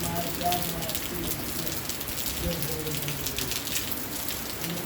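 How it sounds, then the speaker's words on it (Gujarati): Heavy rain pours steadily over Chhara village, a dense, continuous hiss that holds at an even level throughout without a break. "વીજળીના કડકડાટા છૂટે અને જોરદાર વરસાદ વરે"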